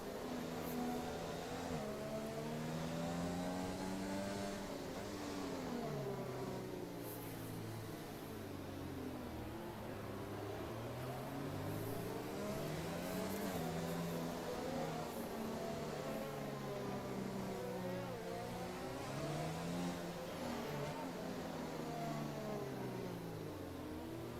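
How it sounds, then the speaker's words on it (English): A Mercedes safety car and a pack of Formula 1 cars at low pace in a racing video game at Azerbaijan. Their engines drone and rise and fall in pitch continuously. The sound is fairly faint and steady, with no talk. "that Merc driver of the safety car is driving the crap out of that car, and the rest of the Formula 1 cars look like they're idling"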